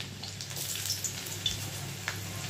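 Garlic sizzles steadily in hot oil already spiced with cardamom, cinnamon and cloves, a continuous close frying hiss with faint crackles and no talking.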